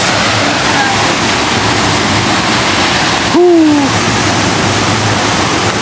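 A waterfall in Valencia, Negros Oriental rushes with a steady, loud broadband roar throughout, briefly joined by a short tonal whistle or hoot partway through.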